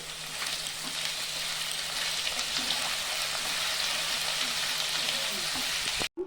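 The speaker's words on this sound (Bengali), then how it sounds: "স্বাদ মতন লবণ দিয়ে, পরিমাণ মতন হলুদ দিয়ে আমি অল্প ভেজে নেব" Taro root frying in hot oil with salt and turmeric, a steady close sizzle and crackle lasting the whole time, with faint stirring and no voices, cutting off abruptly at the end.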